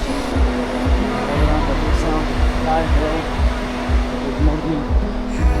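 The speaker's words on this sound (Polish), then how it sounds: "i wreszcie klimatyzacji trochę jest" Air conditioning blows steadily in a car, making a constant airy whoosh over a low hum, while people talk and music plays underneath.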